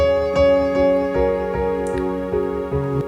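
A sustained, buzzy harmonic tone shifting in small steps, with faint rhythmic ticks underneath: sampled audio stuttering through the scatter effect on a Roland SP-404 MKII sampler.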